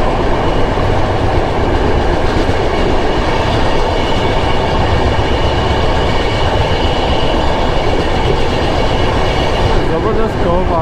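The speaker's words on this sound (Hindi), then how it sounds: "बैक टू बैक हमारी ट्रेन या तो राइट में कर्व ले रही है तो लेफ्ट में ले रही है" Bhopal Shatabdi express train rolling steadily through a run of back-to-back left and right curves, a continuous loud rumble with rattling carriage noise and faint wheel squeal throughout.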